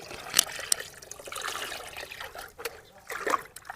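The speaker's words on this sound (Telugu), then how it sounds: "దీంట్లో ఒక లీటర్ ఓడబ్ల్యూడిసి వాటర్ వేస్తున్నాను" Water trickles and splashes into a bucket as a litre of waste decomposer solution is added for compost, a soft uneven pour with a few louder splashes, fairly close.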